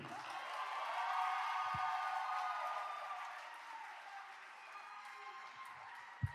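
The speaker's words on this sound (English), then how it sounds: "Let's get a round of applause for Sue." Sustained audience applause with light cheering fills the room, a broad steady wash of clapping that swells early then slowly tapers, with a couple of low thumps near the end.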